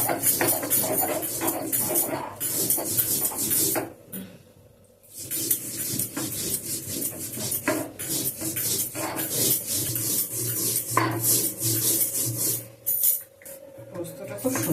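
Poppy seeds are ground into paste on a grinding stone, with a continuous close rasping and rubbing in repeated strokes, broken by one short pause. People talk over it.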